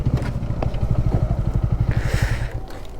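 A Bajaj Pulsar NS400 motorcycle on full throttle, its engine throbbing in fast, even, loud pulses close to the microphone, with a brief rush of wind near the end.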